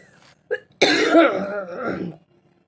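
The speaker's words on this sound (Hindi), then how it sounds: "बीच में कुछ खांसी आ जा रही है।" A short throat sound, then a harsh burst of coughing close to the microphone, fading after about a second.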